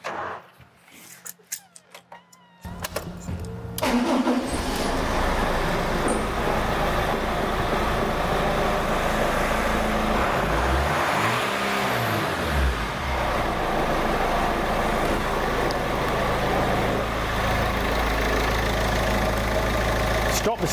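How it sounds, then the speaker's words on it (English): A turbo diesel car engine starts after a few quiet clicks, then runs loud and steady at idle, with a rising and falling rev as it accelerates and eases off midway, engine noise close and continuous. "We run the engine, we run it through idle, acceleration and overrun"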